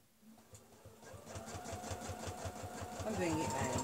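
A sewing machine stitches fabric, a rapid, even mechanical chatter that starts softly and speeds up and grows louder, close by, with faint speech in the background.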